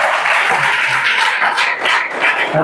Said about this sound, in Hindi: रेंड नदी पर जोरदार ताली बजाओ भाई